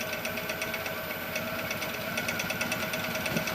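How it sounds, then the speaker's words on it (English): Wood lathe turning over at very slow speed before shaping a wooden spoon, a steady low rattling hum with faint rhythmic vibration, running alone without talk. "I'm going to start my lathe very slow"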